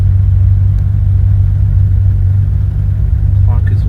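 A 1982 Ferrari 400i with a V12 engine and five-speed manual gearbox idles evenly. Its deep, loud rumble holds steady throughout, and a brief voice is heard near the end.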